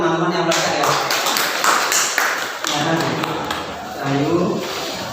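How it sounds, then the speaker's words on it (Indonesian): A class of students applauds briefly in a classroom, a scattered burst of claps under a teacher talking. "tepuk tangan dulu teman-teman yang melakukan ya."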